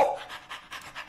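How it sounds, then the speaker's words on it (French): A dog pants in quick, rhythmic breaths, several bursts close to the microphone with short gaps between them. "Il est mignon, ce chien, il va rien faire."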